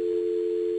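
Polycom conference phone emitting a continuous dial tone, a single flat steady hum at constant volume for the whole moment, with nobody speaking over it.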